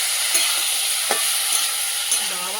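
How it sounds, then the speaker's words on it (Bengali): Cauliflower fries in a pan with a steady, close hiss of oil and a few soft stirring clicks, short and continuous. "ফুলকপি ভাজাটা হয়ে গেছে, নামিয়ে নেবো"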